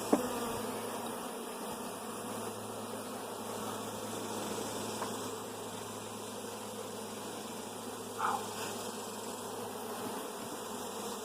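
Honey bees hum steadily around an open beehive during an inspection, a constant close drone with one brief louder pass near the end.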